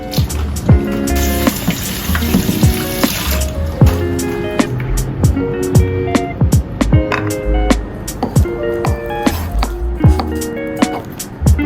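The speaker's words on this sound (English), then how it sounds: "Wash white tofu and sliced." White tofu is washed under running tap water in a kitchen, with the stream hissing early on, then repeated squishy splashes and drips in a quick irregular rhythm close by.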